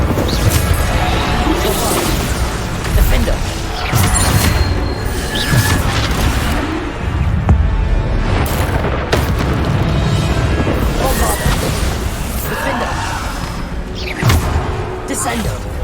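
Repeated Bombarda spell explosions during a hard-mode Hogwarts Legacy fight, with booms, crashes and whooshes over a constant layer of combat noise, while a voice talks throughout.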